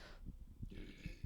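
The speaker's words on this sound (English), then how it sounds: "didn't mean to burp in your ear" A low, rumbling human burp close to the microphone, broken into several short guttural pulses over faint background noise.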